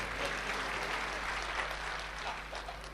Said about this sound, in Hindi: जरा एक बार तालियां बजा दीजिए मित्रों